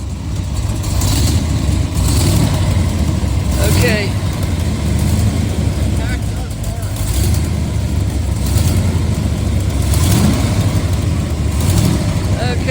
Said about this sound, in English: you can hear that it's a hydraulic cam motor.